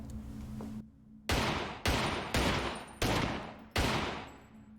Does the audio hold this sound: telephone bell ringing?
no